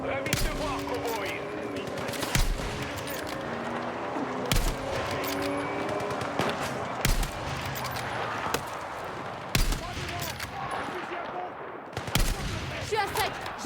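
Heavy gunfire crackles almost nonstop in Battlefield 6 campaign combat, with rapid automatic bursts and sharp loud single cracks cutting through a dense battle din.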